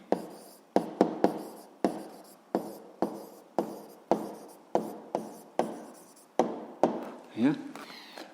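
A pen or chalk writes an answer to a physics problem with a series of sharp taps and scratches in an irregular rhythm, close and fairly quiet. Speech is heard now and then in the clip.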